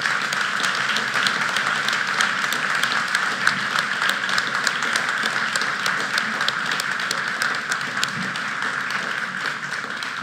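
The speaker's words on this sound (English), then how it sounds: "Please join me in welcoming, with a huge round of applause," An audience at a school graduation ceremony gives a guest a long, continuous round of applause, many hands clapping densely and evenly throughout without letting up.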